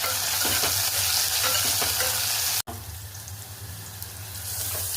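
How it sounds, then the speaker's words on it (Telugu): Steady, loud sizzling of curry leaves, cumin and mustard seeds frying in hot oil, a continuous crackling hiss with a brief cut partway through. "కరివేపాకు, కొన్ని ఆవాలు ఇవి బాగా ఫ్రై చేసుకోవాలండి"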